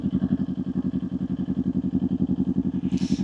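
A motorcycle riding through Seattle city streets, its engine thumping in a fast, even pulse, loud and close, with a brief hiss of wind near the end.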